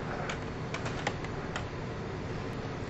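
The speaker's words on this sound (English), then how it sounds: "You try typing with one finger," Slow, uneven keystrokes on a computer keyboard, typed with a single finger: a handful of separate taps spaced apart over a steady low background hum, close by and with no talking.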